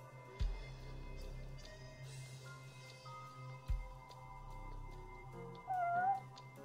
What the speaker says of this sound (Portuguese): Vai me dizer que aqui também tem gato